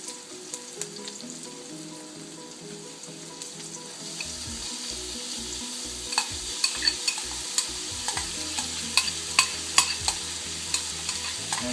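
Tofu sautéing in a pan with onion and garlic as a lumpia filling: a steady close sizzle of frying, with a run of rhythmic stirring scrapes and knocks building in the second half. No talking.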